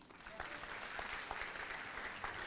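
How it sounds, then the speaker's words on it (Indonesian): Church congregation clapping at a Connect Group night, a steady dense wash of applause with some individual sharper claps, moderately distant and continuous throughout. "Kasih tepuk tangan tuh Yesus."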